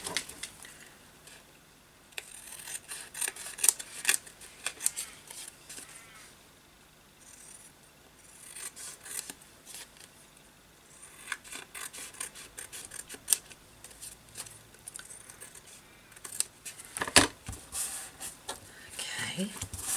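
Scissors snip and trim an index card in short, irregular bursts of close, crisp cuts and paper rustling, with a person talking quietly in between.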